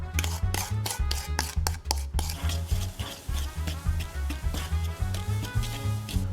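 A spoon or whisk works through chocolate puffed-rice cake batter in a bowl, making repeated rhythmic scraping and stirring strokes, close and steady, over music playing throughout.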